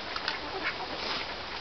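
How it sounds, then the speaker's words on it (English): Ducks quack in a rough, raspy chorus on a cold, windy February day, several calls overlapping close by over steady wind noise, with no talking. "There's the ducks."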